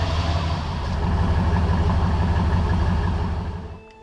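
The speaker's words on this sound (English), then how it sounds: "Just sounds like a truck." A 1999 Dodge Ram 1500 Sport pickup idles on its stock exhaust, a loud, close, steady low rumble with an even pulsing beat that fades slightly at the end.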